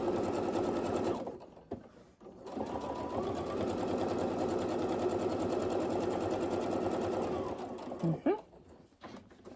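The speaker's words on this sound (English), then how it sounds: "I'm sewing about 1/8 of an inch away." Sewing machine stitching fabric a short distance from the edge while making a machine cover, a steady close mechanical whir running for several seconds, with a brief pause near the start and stopping near the end.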